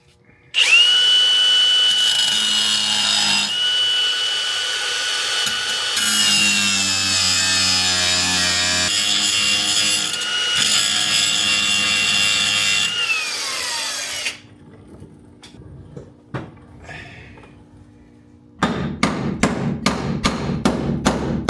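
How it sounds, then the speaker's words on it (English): Power tool grinding the bolt heads off a 1967 Camaro subframe, a loud steady whine for about fourteen seconds, then quieter clatter and a burst of rapid mechanical pulses, with no talking. "I think we're gonna just be able to grind the heads off"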